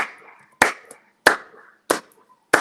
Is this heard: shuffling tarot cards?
no